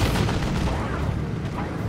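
Heavy weapons fire booms in a Warhammer 40k video game battle, a dense, loud barrage of cannon and artillery-like blasts rolling continuously over the short stretch.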